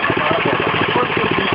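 A walk-behind tractor engine chugs with a steady, close, loud mid-pitched throb for the whole short stretch, with no pauses.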